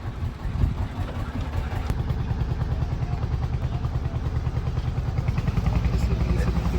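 A boat engine drones low and steady as the boat pulls away in the Sundarbans, a continuous close rumble with some clatter, while people talk over it.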